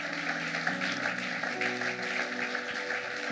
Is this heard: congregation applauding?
yes